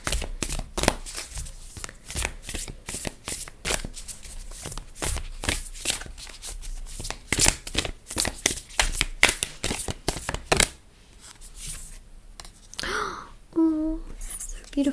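Ganesha oracle cards are shuffled by hand in a rapid run of crisp riffling slaps for about ten seconds, then stop as a soft voice speaks briefly.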